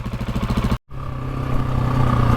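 A GasGas ES 700 motorcycle engine chugs at idle, cuts out for a split second, then pulls away steadily with a rising, sustained engine note as the rider heads out.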